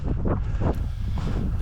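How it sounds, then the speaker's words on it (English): Wind buffets the microphone outdoors during an upland bird and pheasant hunt, low rumbling gusts pulsing close and loud with no speech. "the wind is coming straight into our face"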